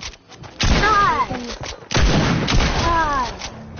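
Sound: gunfire from a video game shooter

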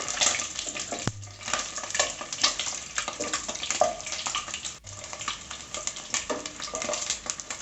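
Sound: eggs popping and sizzling while frying in oil

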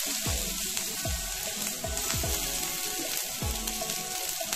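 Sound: puti fish frying in hot oil in a kadai

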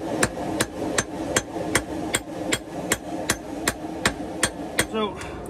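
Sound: hammering a forge weld on railroad scrap axe

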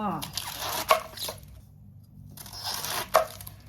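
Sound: knife chopping cabbage

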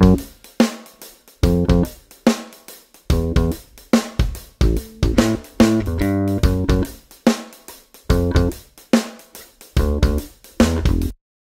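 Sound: electric bass through amplifier

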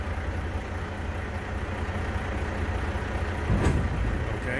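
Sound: semi truck tractor backing up under trailer

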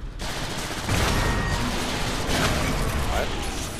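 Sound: turret gunfire in Transformers: War for Cybertron video game

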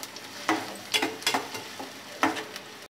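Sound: onions frying in a pan

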